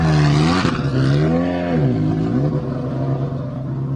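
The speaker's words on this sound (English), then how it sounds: "The Polo is super loud, but it's a really nice car." A Volkswagen Polo rally car on a rally stage in Hungary, its loud engine note rising and falling as it passes close by, with a sharp rasp early on before the sound trails away.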